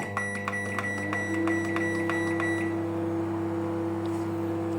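Oven switched on to bake homemade pizza: a steady electric hum with a low drone, broken early by a rapid series of short beeps, alone without talk.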